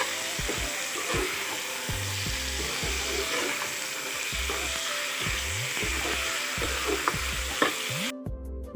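Meat fries in a pan with a constant sizzle while a spoon stirs it in repeated scraping strokes, close and fairly loud throughout.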